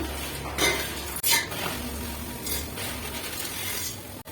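Vermicelli is tipped into a pan of fried cashews for festival payasa, with a metal spoon scraping and clattering against the pan over a steady frying hiss, close and fairly loud, no talking.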